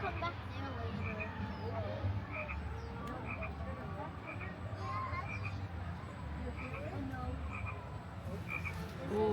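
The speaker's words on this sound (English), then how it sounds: "Ooh, the frog is getting louder." Frogs croak in a steady, repeated chorus at a garden theme park, fairly close and continuous throughout, with a broad outdoor hum and brief children's voices in the background.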